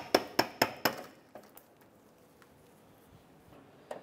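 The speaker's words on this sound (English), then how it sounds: "I'm gonna go ahead and pop our trim buttons here" Plastic trim buttons are popped out of the inner fender liner on a 2008-2012 Honda Accord: four sharp, evenly spaced clicks in quick succession, then a few fainter knocks and one last click near the end.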